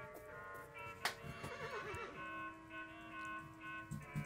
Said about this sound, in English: Here's that donkey.